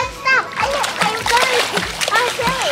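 Children splash water in Congo, Africa, with repeated sharp splatters and sloshes close by while kids chatter and shout over the splashing.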